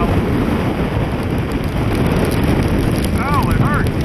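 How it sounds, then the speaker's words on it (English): Sleet pelts down steadily on Cape Cod, a dense close hiss of icy drops with no break, and a brief voice-like sound rises near the end. "Getting pelted with sleet right now."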